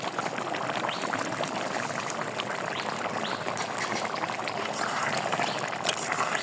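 Chicken with fresh tomatoes boils in a pot: a constant close hiss of bubbling and gentle popping, steady throughout with no voices.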